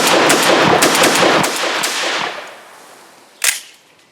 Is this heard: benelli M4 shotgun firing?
yes